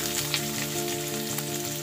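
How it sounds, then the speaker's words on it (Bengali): Boiled potatoes frying in hot oil with black cumin and dried chilli, a steady close sizzle with faint stirring clicks, no talking. "এবার আমি আলুটাকে লাল করে ভেজে নিচ্ছি।"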